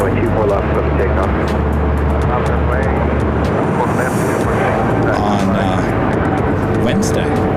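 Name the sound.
aircraft taking off from LAX runway 24 left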